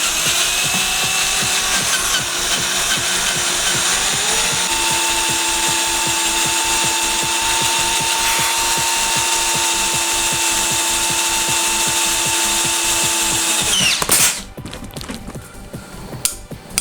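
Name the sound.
power drill drilling a hole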